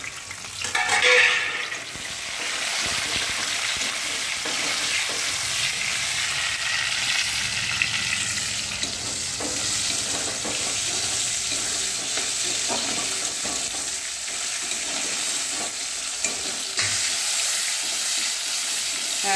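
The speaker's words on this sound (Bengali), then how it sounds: "আমার তেলটা টমেটোটা একটু ভাজা ভাজা হয়েছে" Chopped tomato frying in a generous amount of oil in a pan, a continuous bright sizzle with occasional stirring scrapes, loudest in the first couple of seconds and then steady, no talk.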